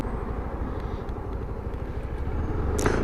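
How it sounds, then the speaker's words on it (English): A Suzuki Burgman 400 scooter engine drones steadily and builds slightly as it is revved, a continuous close motor roar with no talking over it. "I am enjoying getting my rev on. Oh, listen to the roar"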